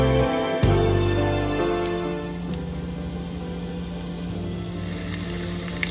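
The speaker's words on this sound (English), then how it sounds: "saute until the chana dal gets golden." Chana dal and cumin seeds saute in hot oil in a pan with a loud, steady crackling sizzle throughout and a sharp clatter near the start.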